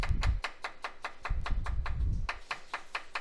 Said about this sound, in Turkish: Ardından sarımsağı doğrayacağım.